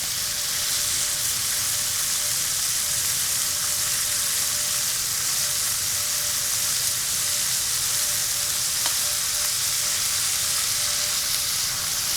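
Pork braised in soy and glazed with cola sizzles and browns in a hot pan, a constant, dense frying hiss running unbroken throughout with no voices.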